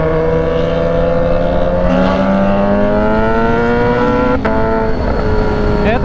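A two-cylinder Kawasaki Ninja 650 motorcycle passes on a narrow street, its engine note steady and loud with rising harmonics as it goes by, other traffic engine sound mixed in.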